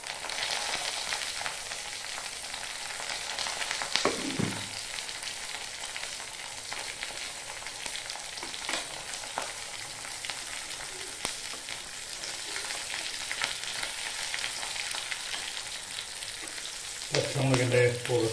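Slit green chillies fry with beef in a hot pan, giving a steady crackling sizzle with occasional stirring scrapes, heard close and alone.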